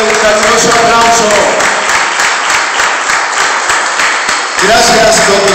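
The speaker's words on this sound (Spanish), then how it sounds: "Un fuerte, un caluroso aplauso." Loud, dense applause from a cinema audience at a closing event, rising as a voice finishes speaking and fading as the voice returns, so talk brackets the clapping.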